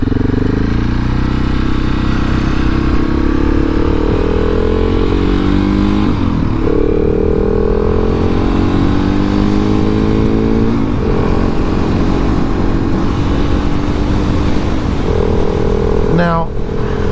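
A 2019 KTM 690 SMCR motorcycle ridden on a brisk day, its loud single-cylinder engine droning close throughout with several rising and falling revs through gear changes.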